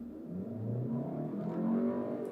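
A 2024 Volkswagen Tiguan R-Line launching hard from a standstill in normal drive mode, its engine note rising steadily and loud in the cabin with no talking.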